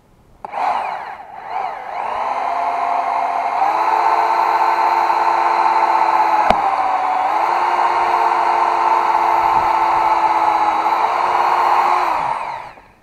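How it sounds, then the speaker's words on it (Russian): A power drill drilling holes to mount a driveshaft hanger bearing on a homemade all-terrain vehicle whines steadily for about ten seconds, loud and close, spinning up at the start and winding down at the end. "Сейчас буду сверлить."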